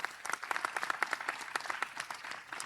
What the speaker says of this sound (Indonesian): Tepuk tangan untuk Tambak Beras.